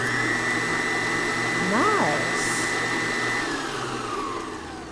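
A Farberware stand mixer pulses on with a steady motor whine and rush, its pitch briefly wavering and bending mid-run, then winds down as the tone drops off near the end. It is close and loud, with no talking.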